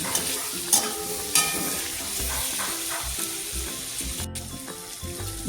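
Onion, tomato and chopped garlic frying in a pan with salt and turmeric, a close, continuous sizzle broken by repeated scraping stirs of a spoon against the pan, with no talking.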